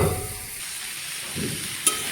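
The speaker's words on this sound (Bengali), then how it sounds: "এখন ভালো করে একটু ভেজে নিব।" Panch phoron spices frying in oil with turmeric and salt make a steady, moderate sizzle with a brief sharp spit near the end, and no voices.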